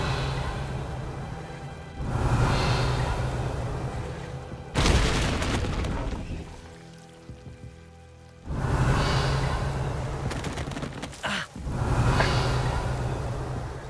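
Confringo blasting spell explosions in the video game Hogwarts Legacy: two heavy booming bursts with rumbling decay, separated by a quieter lull, loud and close, with no speech.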